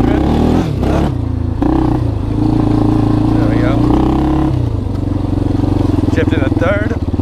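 Yamaha Warrior 350 ATV engine idling and revving after a carburetor rebuild, a loud, close, throbbing single-cylinder putter with rises in pitch, with someone talking over it.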